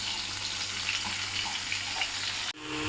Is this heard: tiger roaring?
no